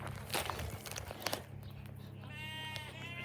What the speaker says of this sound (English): sheep are gonna follow me because they think I've got a year's supply of food